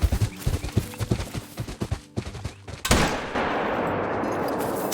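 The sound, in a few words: 7mm rifle gunshot in a hunting video game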